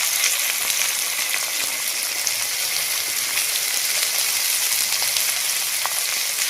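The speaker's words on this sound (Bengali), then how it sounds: "পেঁয়াজটাকে ভালো করে নাড়িয়ে এটাকে ভেজে নিতে হবে" Onions frying in a pan for a chicken curry, a steady close broadband sizzle with occasional crackles and light stirring, continuous throughout with no voices.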